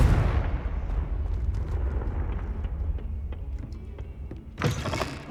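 A Confringo fire-blast spell explodes in Hogwarts Legacy, opening with a loud, booming burst that rumbles and decays into crackling debris, followed by a second sharp blast near the end.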